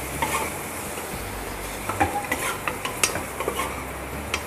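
Spices stirred and fried in a pan for an aloo soya chunk curry, a constant sizzle under a run of quick, rhythmic scraping stirs that grow busier toward the end.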